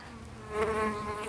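Honeybees buzz close by at a hive being given winter care, a dense humming drone that swells briefly louder midway through.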